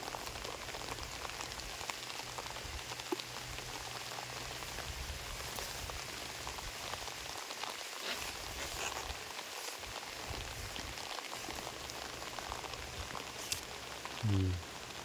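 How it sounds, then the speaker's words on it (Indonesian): Steady rain pours down outdoors on a fishing trip, a dense, even hiss of drops hitting the surface that lasts throughout, with no voices. "Hujan lanjut."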